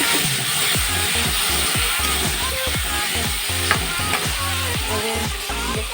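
Fish fries in a pan with a constant hiss and sizzle, overlaid by a brisk, regular series of scraping stir strokes, close and moderately loud.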